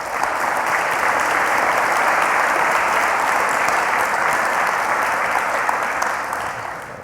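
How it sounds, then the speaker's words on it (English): An audience at a tech conference breaks into sustained applause, a dense, even clatter of many hands clapping for about seven seconds before easing off at the end, with no speech over it. "round of applause."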